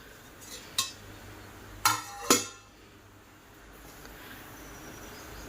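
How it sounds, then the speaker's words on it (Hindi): A hot metal plate lifted off a gas stove in a home kitchen, heard as three sharp metallic clinks, the last two close together, in a quiet room with no talking. "गरम हो रही है प्लेट, उतारती हूँ"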